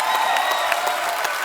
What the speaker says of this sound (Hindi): धर्मेश के लिए जोरदार तालियां यार।